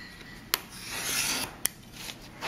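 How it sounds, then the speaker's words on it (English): A blade scrapes along a ruler, trimming excess card edges in a short rasping stroke, framed by two sharp clicks, close and fairly quiet. "I can turn my card over and just put my ruler down and trim off the excess"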